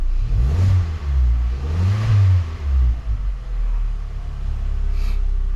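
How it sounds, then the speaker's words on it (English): A 2020 Hyundai Veloster base 2.0 engine, just fitted with new spark plugs, revs up three times with smooth rising and falling swells, close and loud, then settles back to a steady idle. "Rev it up a little bit."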